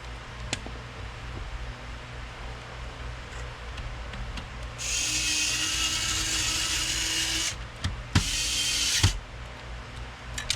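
A cheap electric screwdriver drives screws into a Nintendo GameCube shell during repair, two high whirring bursts of a few seconds each, separated by clicks and light handling noise in a quiet room.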